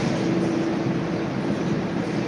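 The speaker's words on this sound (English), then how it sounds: "excuse the noise, people, that's trash truck." A garbage truck idles and works outside, a steady, loud broadband rumble with a low engine drone that holds evenly throughout.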